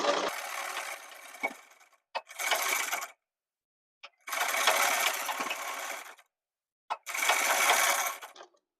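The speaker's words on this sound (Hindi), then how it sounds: "इसमें आधा इंच का मार्जिन लेकर इसमें सिलाई लगा लेंगे" Sewing machine stitching a shirt sleeve with a half-inch seam margin, running in four close, steady bursts of one to two seconds each, separated by short pauses and small clicks.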